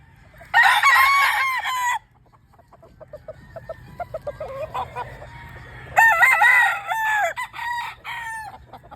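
Four pure Super Brown Red brood stag roosters of the Mount Banahaw line crow loudly twice, once early and once later, with softer clucking between, all close by.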